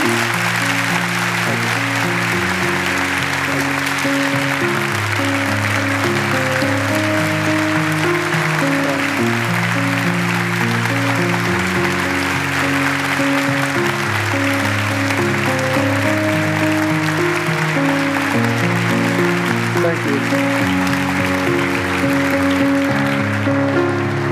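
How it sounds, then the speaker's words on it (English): Steady applause from an audience at a youth salute event, sustained and loud for the whole stretch, with music playing prominently throughout. "Let's give another round of applause for this incredible man."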